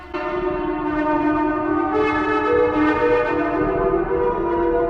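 Bright, buzzy supersaw synth chords ringing out continuously, thick and rich in harmonics, loud and alone with no voices.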